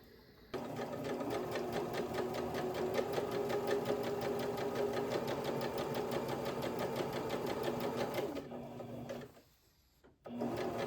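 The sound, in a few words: sewing machine stitching a skirt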